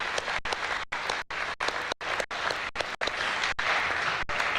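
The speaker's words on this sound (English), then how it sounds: "give them a round of applause" Audience applauding at a lecture, dense clapping sustained throughout and briefly broken by short recording gaps.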